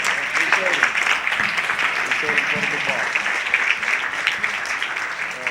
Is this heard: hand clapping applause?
yes